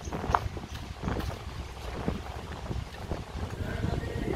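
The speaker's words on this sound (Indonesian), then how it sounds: "kita lagi berada di pinggir pantai, jadi anginnya sangat kencang" Strong wind at the edge of a beach buffets a Samsung Galaxy S10 phone microphone, giving a continuous low, rumbling roar with irregular gusty surges throughout.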